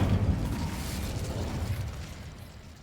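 Incendio fire spell cast in Hogwarts Legacy, a burst of whooshing flame with a low rumbling boom at the start that trails off over a few seconds, loud and alone with no talk.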